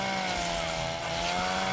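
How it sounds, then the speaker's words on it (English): A chainsaw in the survival video game Sons of the Forest revs at a steady, loud drone with harmonic whine, running continuously close by with no talk. "Just spin round with fucking chainsaw."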